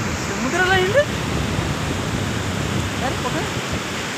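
Surf rolling onto the beach at Navapur, a steady broadband roar of breaking sea waves filling the scene throughout, with brief voices and a short shout near the start.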